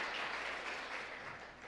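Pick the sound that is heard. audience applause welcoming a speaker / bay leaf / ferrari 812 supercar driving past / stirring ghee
audience applause welcoming a speaker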